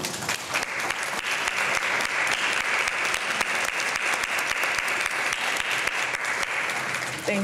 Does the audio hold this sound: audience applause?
yes